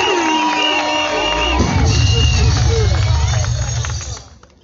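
Cheering, whoops and shouts rise from a crowd at a wedding ceremony, loud and close, with voices calling out over a rumbling hubbub before it cuts off near the end.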